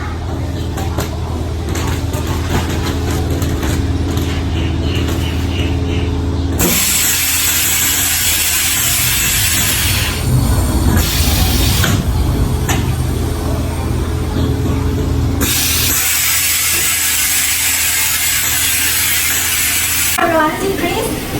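An HFD-880 pillow compression packing machine runs loudly with mechanical whirring and hissing bursts that change in stages as pillows are pressed flat.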